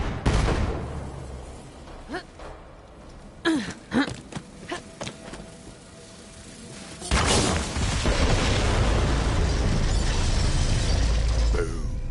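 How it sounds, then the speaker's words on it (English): Set bombs detonating in Borderlands 3, a sequence of sharp blasts and cracks with scattered debris impacts, then a sustained loud roaring rumble that carries to the end. "Explosion echoed through the forest"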